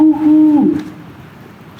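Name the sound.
owl hooting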